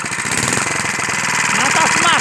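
A Montgomery engine runs with its carburetor out of adjustment, giving a loud, close, rough and unevenly pulsing drone that swells slightly toward the end, where a voice briefly joins.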